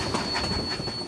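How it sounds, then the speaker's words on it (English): Narrow-gauge steam train on the Cumbres and Toltec Scenic Railroad, the highest steam-powered railroad in North America, rolling along with rumbling wheel clatter under a steady high-pitched wheel squeal, loud and close. "the highest steam-powered railroad in North America"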